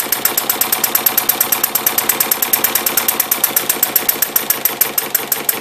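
A Webster model engine runs on its original Chuck Fellows carburetor, a loud, fast, steady chain of sharp evenly spaced firing pops, close and alone throughout.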